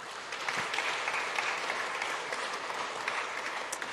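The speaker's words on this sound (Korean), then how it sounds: "우리 한번 박수로 한번 환영하겠습니다" A church congregation claps in warm, continuous applause to welcome a guest elder, a dense patter of many hands at a moderate, even level lasting a few seconds.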